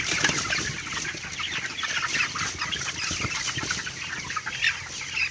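Dense clucking of many broiler chickens fills a highland poultry house, a steady overlapping chorus of birds with a constant low hum beneath, near the ventilation blower.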